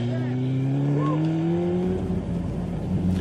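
A motorcycle rides through a corner in a rising engine drone that climbs steadily in pitch, then turns rougher and louder, with a voice talking over it.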